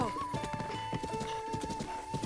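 A horse in The Legend of Zelda: Breath of the Wild trots with quick, even clip-clopping hooves, close and continuous, over soft sustained in-game tones, with no one speaking.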